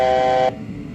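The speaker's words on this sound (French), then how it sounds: "C'est une notification pour les pilotes qu'ils sont proches de leur altitude" An Airbus A320 cockpit altitude alert sounds as a loud, clear chime that holds steady for about half a second and then cuts off, leaving a low cockpit hum.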